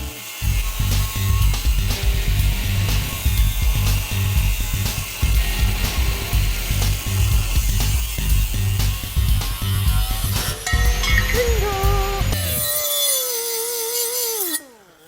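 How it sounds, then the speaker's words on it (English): A 4-inch cutoff wheel slices through a chrome-plated front bumper with a loud, steady, harsh grinding whine close by for about twelve seconds, then the wheel's pitch falls away as it spins down. "Cut it, and we're gonna use a 4" cutoff wheel."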